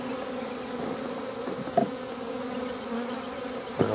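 Honeybees at a flow hive buzz in a close, continuous drone, with a couple of brief knocks against the hive or gloves.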